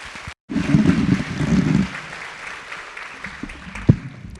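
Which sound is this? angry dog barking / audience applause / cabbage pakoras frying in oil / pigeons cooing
audience applause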